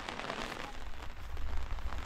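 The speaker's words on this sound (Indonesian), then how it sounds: "Hujan malah." Rain pours at an outdoor pond excavation site, a constant broadband patter that swells slightly louder toward the end, with no one talking.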